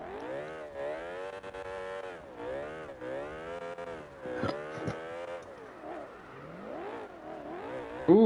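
A Toyota Supra in the CarX Drift Racing video game revs repeatedly, its engine note swooping up and down in wavering pitch through drifting, with a brief sharp burst near the end.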